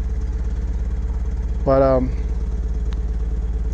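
A Mazda Miata NB2 with VVT running on a RusEFI ECU idles steadily throughout, a low continuous rumble with a brief voice cutting in midway.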